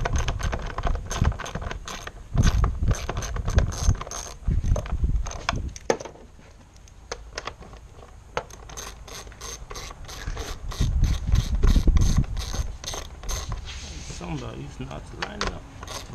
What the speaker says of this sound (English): And then you secure the screws.